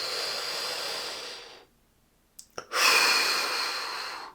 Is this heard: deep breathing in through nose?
yes